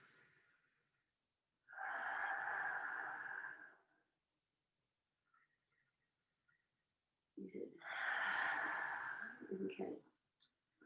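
Two long, deep breaths during a yoga exercise, each a slow breathy inhale or exhale lasting a couple of seconds, close and clear with quiet between.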